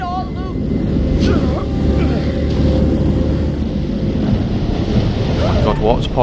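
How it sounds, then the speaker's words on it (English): Water rushing into a boat caught in a storm at sea, from a video game: a loud, continuous wash of surf and wind with sloshing, churning water throughout, plus a few brief tonal game sounds. "Oh my God, water's pouring in."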